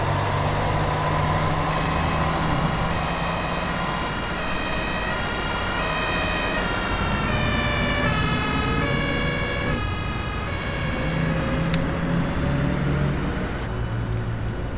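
Fire engine sirens wail loudly and continuously in a city, several overlapping rising and falling tones with a deep vehicle rumble beneath, sustained throughout without speech.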